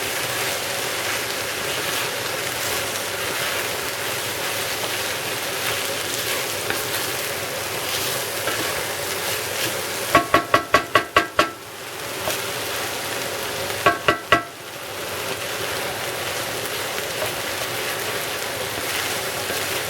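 Potatoes and meat sauté in a pan, giving a steady close sizzle and crackle throughout, broken twice by quick bursts of sharp clinks as the utensil scrapes and taps the pan.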